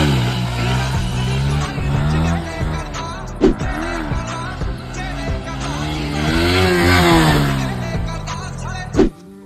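A Yamaha R15 V3 motorcycle pulls a wheelie in Murshidabad, its engine revving loudly and close by, pitch climbing and falling in repeated surges with a sharp burst near the end.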